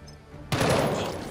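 After a half-second lull, a sudden loud burst of gunfire from Jagged Alliance 3 erupts and rings on as a dense, noisy blast through the rest of the clip.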